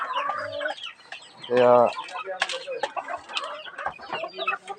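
Young chicks hatched from incubated eggs, kept together in a cage, cluck and peep closely in busy overlapping calls, with one louder drawn-out squawk partway through and a voice speaking briefly.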